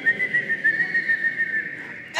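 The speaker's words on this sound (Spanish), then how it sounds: "Y me coloco aquí en la escalera para silbar" Someone standing on a staircase whistles a single sustained, fairly loud tone with slight wavering pitch for about two seconds before it breaks off abruptly.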